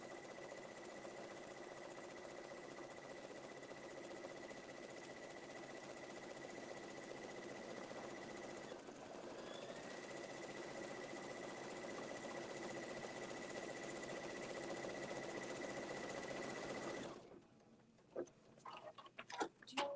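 An embroidery machine stitches a wine bag with tight satin stitches, a steady fast mechanical whir running continuously and close, then stopping abruptly near the end with a few clicks.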